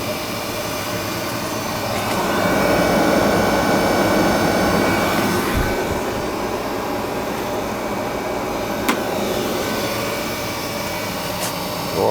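A Carlin oil burner fires and runs with a steady, loud roaring rumble that swells slightly mid-way, then holds an even drone with a couple of faint clicks.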